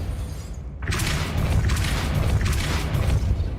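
A Depulso spell cast in the Hogwarts Legacy video game, a brief quiet lull broken by a forceful whooshing boom that swells into a broad, rolling rush of noise lasting to the end.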